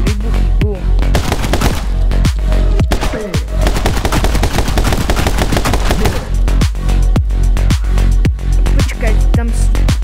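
Rapid gunfire and explosions in a video game rattle on loudly and continuously for ten seconds, dense bursts of automatic fire punctuated by heavier booming blasts.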